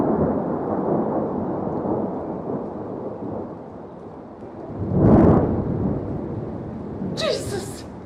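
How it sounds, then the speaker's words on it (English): Thunder from lightning directly overhead during a storm, a continuous rumbling roll with a sharper loud burst partway through, followed by a brief cry from a person. "Oh, that lightning's right above us."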